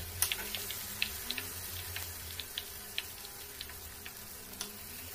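Soft sizzling of bananas frying in oil, with scattered small pops and crackles over a low steady hiss, no voices.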